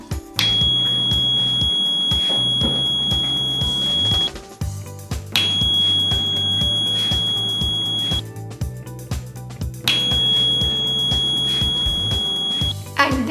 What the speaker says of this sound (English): whenever I clap or snap my fingers in front of the circuit, our LED as well as the buzzer will turn on.